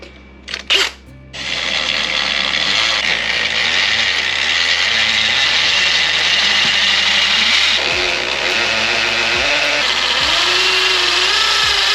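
A few sharp knocks, then a loud, continuous hammer drill chattering into a concrete garage floor for several seconds, close to the microphone, with a faint pitch shift near the end.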